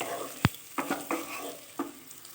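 Fried rice with chicken and mixed vegetables stirred in a hot pan: a handful of distinct scraping knocks of the spatula over a soft, steady sizzle, close and fairly quiet.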